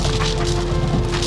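Rain patters steadily on a Skoda Slavia during a drive, a dense close drumming over the car's low road rumble, with no talk.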